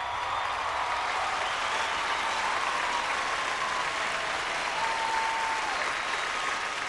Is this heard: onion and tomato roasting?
no